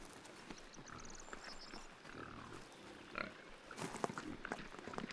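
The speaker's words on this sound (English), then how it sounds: "The black Iberian pigs can be traced back to ancient times." Black Iberian pigs, an ancient acorn-eating breed, give faint, scattered grunts and snuffles against a soft outdoor background, with a few sharper sounds near the end.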